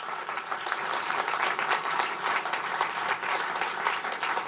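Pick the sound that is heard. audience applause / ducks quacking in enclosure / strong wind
audience applause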